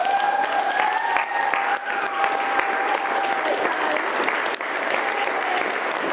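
Wedding guests at the reception speeches break into warm, steady applause, a full room of clapping sustained for about six seconds, with a few faint whoops and tones over it.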